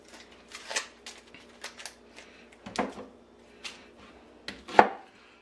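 A knife rough-chops a big onion on a cutting board in a home kitchen, a series of irregular close, sharp cuts and taps, with one louder chop near the end and no talking.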